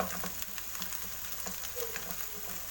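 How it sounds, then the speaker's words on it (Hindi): Ginger and garlic fry in a pan of oil, a soft continuous sizzle with small crackles and spits scattered through it, heard up close and alone. "एक 2 मिनट अच्छी तरीके से भून लेते कि अदरक लहसुन भी हमारा भून जाएगा"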